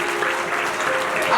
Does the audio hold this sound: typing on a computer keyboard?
no